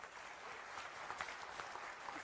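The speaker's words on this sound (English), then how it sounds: "that I think requires tremendous applause from all of us" An audience at a Mumbai event with the finance minister applauds, a continuous, faint spread of many hands clapping at a distance, low in level throughout.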